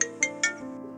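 An incoming-call phone ringtone plays close and clear, with three quick bright chimes over a sustained electronic tone.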